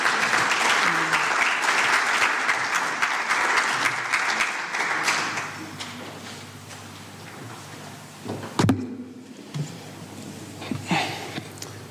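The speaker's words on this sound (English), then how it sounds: "Let's give ourselves a round of applause." A lecture audience breaks into loud, dense applause that carries on for several seconds, then fades into a quieter room with a single sharp knock and some faint shuffling.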